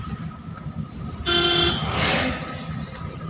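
A single car horn honk sounds nearby over a hum of traffic, followed by a rushing swell of passing vehicle noise.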